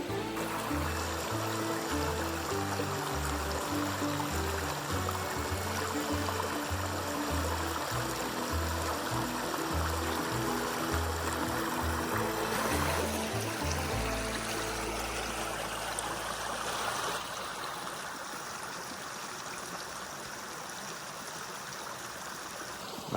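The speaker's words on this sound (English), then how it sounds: "Check out this pretty little creek that runs along John Hollow's shelter." A small creek beside a shelter on the Appalachian Trail flows steadily with a constant rushing and trickling of water, close by and unbroken throughout.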